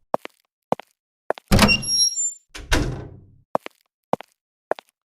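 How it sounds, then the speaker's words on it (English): An indoor room door is opened with a couple of heavy thuds and a short rattling swing, set between sharp isolated knocks and clicks, with no talk. "I will go open the door."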